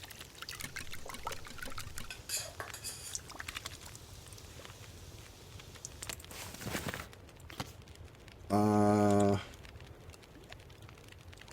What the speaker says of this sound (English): let's make some porridge now that we have enough water